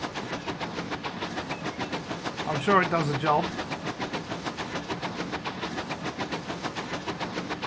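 A train runs in the video game Transport Fever 2, with a steady rhythmic clickety-clack throughout and a brief louder whistle-like swell midway, while someone talks over it.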